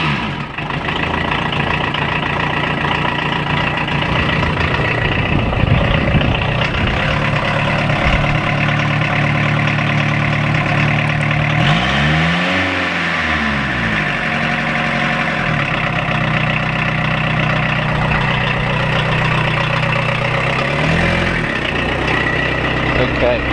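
A 1989 VW MK1 Caddy with an old diesel engine idles steadily, then revs and pulls away in a loud, continuous drone with a swelling rise in the middle, while people talk over it inside the vehicle.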